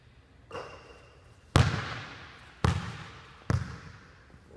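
A basketball on an outdoor court: a shot swishes through the net and the ball then bounces several times, each impact sharp and ringing with a short decay, with a faint brushing sound beforehand.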